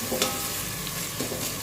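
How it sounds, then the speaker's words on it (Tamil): Onions sautéing in oil in a pan for vegetable biryani, a soft steady sizzle with a couple of light stirring scrapes, close and quiet with no talking. "வெங்காயம் வதங்கிச்சா பார்க்கலாம்"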